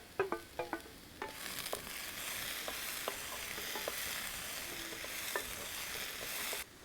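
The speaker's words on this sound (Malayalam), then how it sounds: "പുളിച്ചിക്കയിട്ട് വശക്കാം." Bilimbi stir-fries in a pan, giving a sustained sizzle marked by repeated spatula taps and scrapes, clearest at the start, until the sizzle cuts off near the end; no voices.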